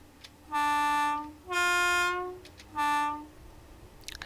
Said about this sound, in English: It's a very nice horn.